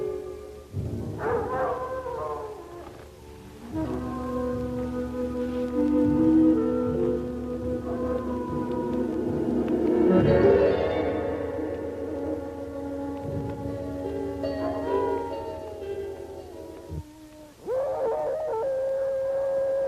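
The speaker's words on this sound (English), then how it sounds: "You hear the wolves?" Several wolves howl in long, sustained, overlapping wails that rise and fall, loud and close, layered with tonal cries and ending with a sharp higher howl.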